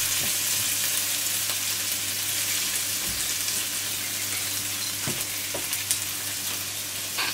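Raisins fry in a pan for Afghan Kabuli pulao, giving a steady close sizzle with some soft stirring scrapes and small pops throughout, with no voices.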